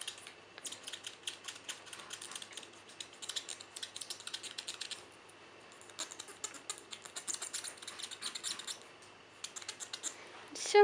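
A white nail buffer rubs back and forth across a fingernail during a classic manicure, giving soft, rapid scratchy strokes in bursts with short pauses, close and quiet.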